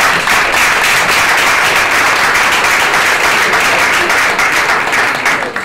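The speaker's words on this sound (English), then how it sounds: "applause. Very slick." A loud round of applause at a startup demo day, many hands clapping in a dense, unbroken wash that holds steady for several seconds and tails off at the very end.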